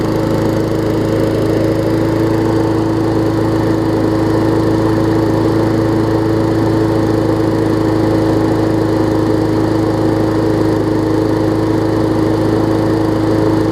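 A Murray 20-inch lawn mower engine runs steadily and loudly up close, holding a constant buzzing pitch with no talking.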